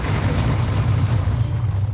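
Explosion in the Minecraft video game: a single deep, rumbling boom filling the whole moment, loud and low-heavy with a noisy decaying blast, no speech.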